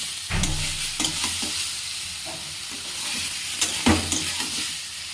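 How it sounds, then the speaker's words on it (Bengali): Chunks of jackfruit and potato fry in oil with a close, busy sizzle. Repeated clanking stirs and scrapes of a utensil against the pan sound through it. "এখানে ভাজা হচ্ছে এঁচড় আর আলু"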